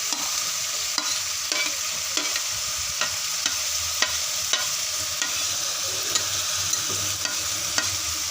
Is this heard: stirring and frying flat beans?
yes